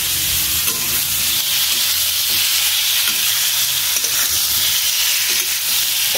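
Pointed gourd pieces sizzle and fry in hot mustard oil, a loud, continuous hissing crackle that fills the whole stretch with faint occasional stirring scrapes and no talk.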